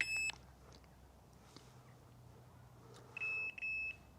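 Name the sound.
Rippton Bitekeeper Cube bite alarm custom pure echo tone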